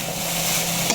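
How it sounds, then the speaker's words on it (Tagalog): Brief sizzle of sautéed banana blossom being stirred in a pan, a steady frying hiss with one small scrape near the end. "Hinalo."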